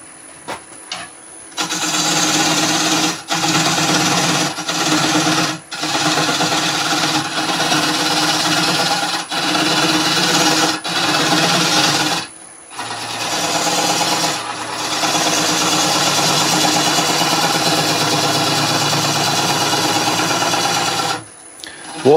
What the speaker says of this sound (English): I'm going to use a little quarter inch bowl gouge.